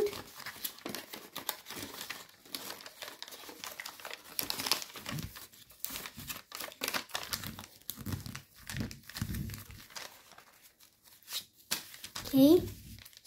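Sheets of paper crinkle, rustle and crease in bursts while an origami helicopter is folded by hand, the crisp crackles sitting close and running under steady instructional talk.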